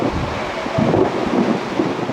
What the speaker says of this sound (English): And the storm begins.